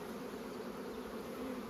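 Bees crowd over brood frames in an open hive, a steady close hum droning evenly throughout without pause.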